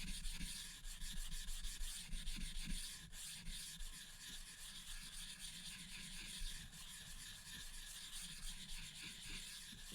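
A Nagura stone rubs back and forth over a 1000-grit Suehiro whetstone to dress its surface, giving a soft, continuous gritty scraping that stays faint and close, with no voices.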